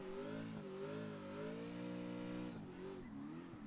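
Car engine revving during a drift in a racing video game, a sustained mid-pitched engine note that rises and dips with the throttle, loud and continuous, with tire noise creeping in toward the end.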